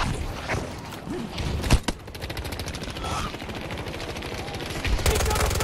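Rapid automatic gunfire and shotgun blasts from the video game Battlefield 2042 crackle loudly and continuously, with bursts and a sharp single blast near the middle, as a voice speaks briefly over the combat.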